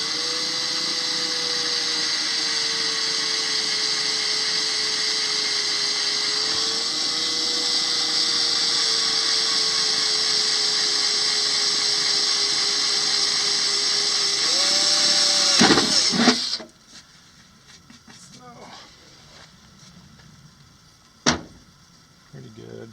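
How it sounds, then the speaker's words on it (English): A steady high-pitched drill whines continuously for about fifteen seconds boring holes into a boat hull for an outboard motor bracket, then cuts off abruptly, followed by quieter handling noises and a sharp knock. "drilling additional holes into the boat."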